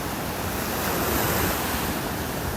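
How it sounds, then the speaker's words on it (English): Ocean waves break on a beach in North Naples, Florida, giving a steady, loud roar of churning surf mixed with wind rumble on the microphone. "These waves have definitely got things churned up."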